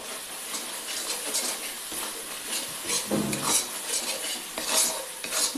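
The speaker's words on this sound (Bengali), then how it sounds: "এবার এই সবগুলোকে সুন্দর করে মিক্স করে দেবো।" A yogurt and spice mixture is stirred in a pan for a cauliflower roast, with continuous close scraping and clinking of a utensil against the pan over a soft sizzle.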